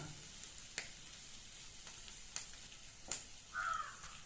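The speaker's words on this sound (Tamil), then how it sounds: "கருவேப்பிலை சேர்த்து எல்லாத்தையும் வதக்கணும்." Curry leaves and spices sautéing in a pan for a broccoli pepper fry, a faint steady sizzle with a few sharp stirring clicks, quiet and close.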